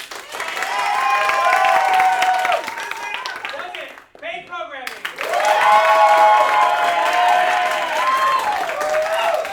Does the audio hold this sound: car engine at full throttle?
no